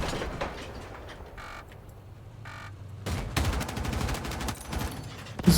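Rapid vehicle-mounted gunner-seat gunfire in Battlefield 6, loud bursts of automatic fire broken by brief pauses, then a dense sustained volley, with no talk.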